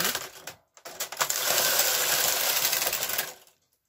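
A knitting machine knits two rows of waste yarn, with a few brief clacks and then a close, loud mechanical rattle as the carriage sweeps across before it stops.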